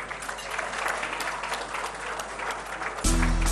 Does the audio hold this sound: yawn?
no